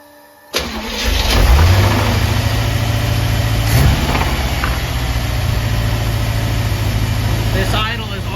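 A test engine running on a freshly rebuilt carburetor fires up and settles into a steady, loud idle with a low rumbling drone, holding evenly for several seconds close by.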